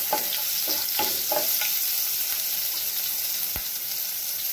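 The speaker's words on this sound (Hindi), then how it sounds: "इसमें दो हरी मिर्च डाल देते हैं" Two green chillies spitting and crackling in hot oil with panch phoron, a steady close sizzle broken by a few stirring scrapes and one sharp pop, no voices.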